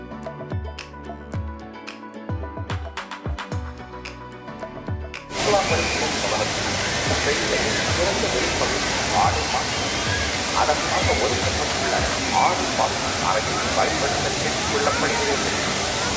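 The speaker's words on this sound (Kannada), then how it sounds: "ಇದೇ ನೋಡಿ ಬ್ಯೂಟಿಫುಲ್ ವಾಟರ್ ಫಾಲ್ಸ್." Short stretch of music, then the steady, loud roar of Thiruparappu Waterfalls in Kanyakumari, India, rushing continuously and filling the soundscape.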